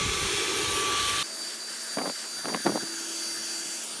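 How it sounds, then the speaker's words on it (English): A Dyson V11 Torque Drive cordless vacuum cleaner, whose torque drive head has a fault and won't spin, cleans a corner of a car interior. It gives a loud, steady whine and then a quieter hum with a few short suction bursts, close to the listener. "She's just going to vacuum up some of that in the corner there."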